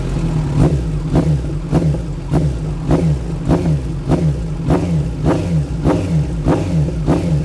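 2018 Kawasaki Z900SE motorcycle engine revved to high rpm, a loud, close, sustained roar with rhythmic surging pulses recurring roughly every half second throughout.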